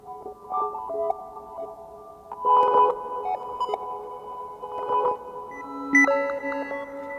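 Synth patch notes played loosely, like single piano-style keys, washed in spacey reverb and micro-looping effects; bright tones ring and overlap in bursts, sustaining into a soft ambient haze with no voices.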